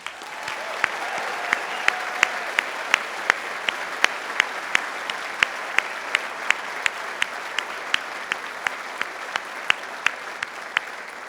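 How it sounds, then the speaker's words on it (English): Audience at a Dalhousie University Faculty of Health spring convocation applauds the graduates, a sustained dense wash of clapping from a large crowd in a hall, steady throughout with a few sharper claps standing out. "Please join me once again in congratulating all of the graduates with your applause."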